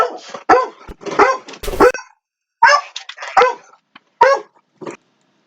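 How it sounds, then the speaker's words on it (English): A dog barks in loud, sharp bursts close by, with yips mixed in, reacting to a knock at the home's door; the barks come in irregular clusters separated by short silences. "they knocked on the door, so then the dog got to go crazy"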